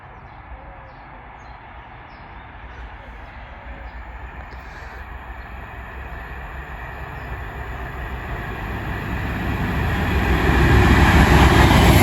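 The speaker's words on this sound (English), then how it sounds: "And our next train is in the distance over at Staplehurst." A train rumbles in from the distance at Headcorn station, growing steadily louder over several seconds, with faint birdsong above the rising roar.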